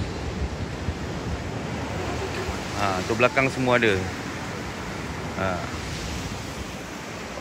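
Steady broadband wash of sea waves at a seaside shore, continuous and moderately loud throughout, with people talking briefly over it in the middle.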